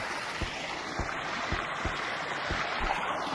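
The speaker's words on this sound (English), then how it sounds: "that water is really loud" Flowing water in the VR game Gorilla Tag: a steady, loud rushing wash with soft, evenly spaced thumps beneath it, continuous throughout.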